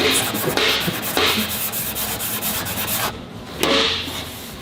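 Body filler being sanded by hand on the inner tailgate panel of a GMC Jimmy, a steady close abrasive rubbing in repeated back-and-forth strokes with brief pauses and no talking.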